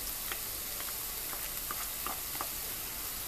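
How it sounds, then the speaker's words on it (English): Refried beans going into sizzling taco meat in a pan, a dense steady hiss with several soft stirring scrapes, close and even in level, no voices. "We're going to add our refried beans"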